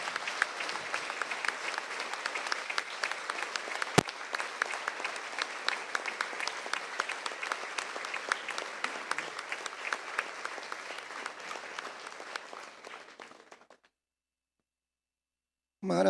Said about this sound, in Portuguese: Aplauda o Senhor, que Ele é digno.